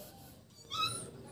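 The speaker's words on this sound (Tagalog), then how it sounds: "nagwawala na yung tuta ko dahil hindi pa nakakakain daw" A hungry, unfed puppy whines in a house, a faint, brief high-pitched whimper rising above a low background murmur.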